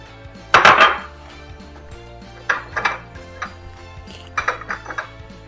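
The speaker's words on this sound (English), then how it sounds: "And just give it a stir." Chopped onion stirred in a pot: a loud scraping clatter of utensil against metal, then several shorter scrapes and clinks in uneven bursts over a low steady hum, with no talking.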